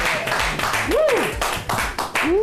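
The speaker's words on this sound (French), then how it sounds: "on l'applaudit très fort, s'il vous plaît" Applause and clapping ring out from an audience, with voices and rising cheers mixed in over a short burst.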